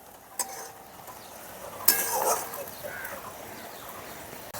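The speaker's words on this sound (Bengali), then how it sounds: "জলটা দিয়ে 1 মিনিটের মতো নাড়াচাড়া করে" A spoon stirs karamcha fruit in water in a cooking pot, with a sharp clink against the pot, then soft scraping and sloshing, all fairly faint and close.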